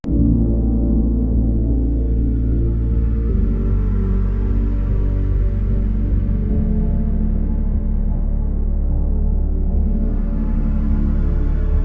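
A fragment of a song discovered in Fortnite game files plays loud and continuous, with a heavy low-end bass drone and sustained synth layers running throughout, and no voices talking over it.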